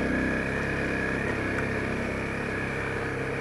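Honda CRF250L motorcycle engine chugging at low revs on a ride, a steady muffled drone with faint pulsing and constant wind rush, heard close from the rider's position.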